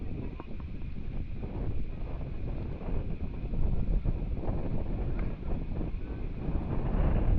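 Strong wind buffets the microphone near a boardwalk in General Luna, Siargao Island, in a constant, heavy roar that barely lets up, gusting a little louder toward the end.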